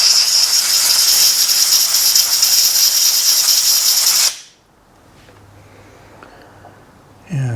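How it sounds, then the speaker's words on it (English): Compressed air blasts onto an electrical connector of a Suzuki V-twin superbike during cleaning, a loud steady hiss lasting about four seconds that cuts off abruptly, followed by quiet workshop room tone and a brief final burst. "Use a bit of compressed air."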